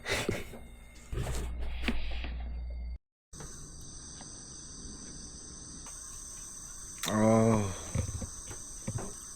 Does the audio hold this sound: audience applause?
no